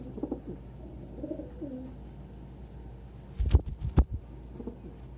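Many pet birds, pigeons and doves among them, coo and call together at breakfast, soft steady cooing and chirps close by, with a couple of louder sharp calls or bumps near the end.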